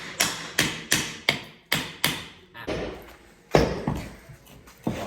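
Metal car part from a Miata rear end hitting a garage floor, a rapid series of sharp knocks and thuds, close and loud, with ringing decays between impacts.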